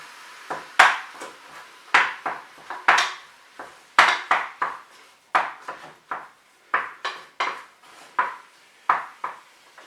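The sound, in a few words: spatula breaking up mince in a pan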